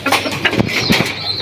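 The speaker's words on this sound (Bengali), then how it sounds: "তো এই যে আমার পেয়ারিং করার কবুতরগুলা" Domestic pigeons kept for pairing flap their wings close by in a quick burst of fluttering beats, loud and with no talking.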